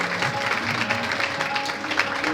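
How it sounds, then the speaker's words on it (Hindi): An audience at a college celebration of Ghalib's anniversary claps for a young singer: dense, continuous applause throughout, with faint tonal music beneath it. "तो इसके लिए आप एक बार जोरदार तालियां जरूर करें।"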